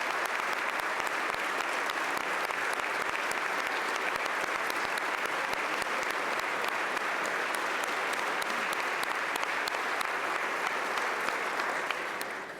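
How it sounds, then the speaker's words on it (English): A legislative audience applauds the First Lady during a Pennsylvania governor's budget address, a dense, steady clapping from a large crowd sustained for over twelve seconds before tapering at the end. "Let the record reflect, everybody seems to clap for the First Lady."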